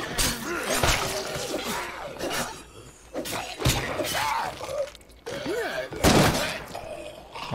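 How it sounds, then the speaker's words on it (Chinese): Teammates firing guns in the zombie game State of Decay 2 on nightmare difficulty, sharp repeated shots and impacts scattered through busy game noise, fairly loud and close. "你的队友，你的伙伴都会直接开枪的"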